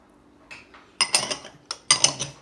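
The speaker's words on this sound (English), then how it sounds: "And you just whisk that up." A whisk clinks against a bowl while stirring flour, baking powder, baking soda, sugar and salt for buttermilk pancakes, coming in a few quick, close, irregular bursts of metallic tapping and scraping.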